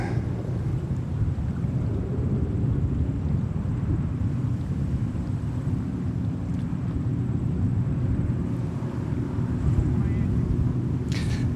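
An airliner arrives on runway 31 left at JFK Airport, a loud continuous low roar of engines and wind rumble that holds steady throughout.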